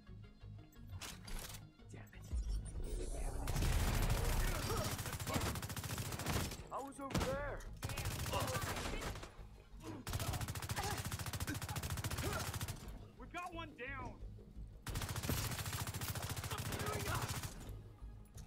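Rapid bursts of Bighorn rifle gunfire in The Division 2, loud repeated volleys separated by short pauses, with someone talking between and over the shots.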